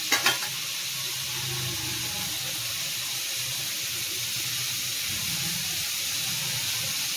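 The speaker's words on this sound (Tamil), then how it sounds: "நல்லா வதங்கட்டும்" Vegetables sautéing in a pan with a constant close sizzle and hiss, a few sharp clinks at the start, then even frying with faint stirring underneath.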